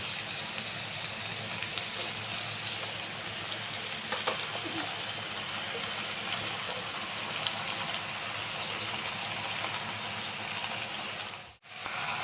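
Meat dropped into hot oil for a red goat-meat curry gives a steady, dense sizzle that runs almost unbroken for about twelve seconds, close and moderately loud, with a brief dip near the end.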